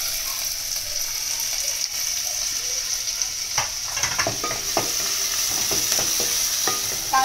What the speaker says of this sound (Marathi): तेल तापला की आपण ह्याच्यामध्ये कांदो फोडणीत घालूया